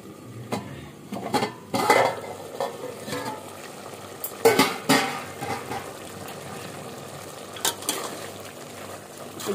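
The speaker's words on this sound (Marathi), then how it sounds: "तर आता झाकण काढूया." A lid comes off a pot of chicken cooking on the stove with a couple of sharp metallic clanks and knocks, set against quiet kitchen noise and a faint background hiss.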